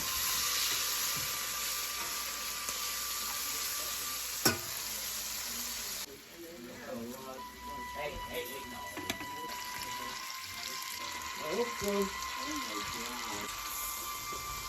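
Boneless, skinless chicken pieces fry in a pan with onion for an udon stir fry, making a soft, steady sizzle with occasional stirring; a voice talks over it in the second half.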